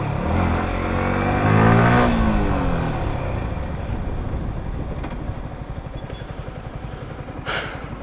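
A Bajaj Pulsar RS200 BS3 motorcycle runs flat out near its 140 km/h top speed in a drag race, its engine roaring loudly and steadily with a rising whine early on, then a sustained drone.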